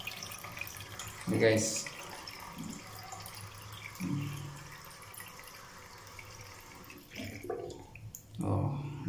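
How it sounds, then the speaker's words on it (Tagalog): Water from a freshly cleaned household faucet runs and splashes in short bursts, close by, with a person talking over it. "malakas na yung tubig"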